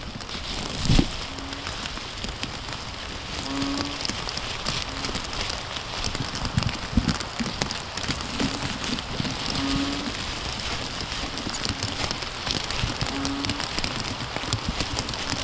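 Steady rain falling and pattering on surfaces, a dense continuous hiss with occasional drips and faint chirps in the background.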